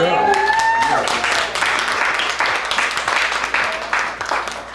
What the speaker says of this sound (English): One more round of applause for Sterling